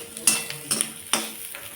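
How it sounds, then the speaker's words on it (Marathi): Green chilies and garlic roasting in a pan, with a few metallic clinks and scrapes of a utensil against the pan over a faint sizzle, close by and brief. "यामध्येच आता आपण घेतलेला लसूण देखील मी थोडंसं परतवून घेणार आहे"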